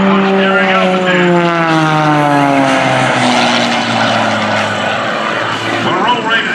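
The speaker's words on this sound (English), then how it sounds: "he takes the airplane and flies it up in a shoulder roll or a step roll on the way up" An aerobatic propeller airplane performing rolls at an airshow drones loudly and steadily overhead, its engine pitch sliding gradually downward as it passes, with crowd noise faintly underneath.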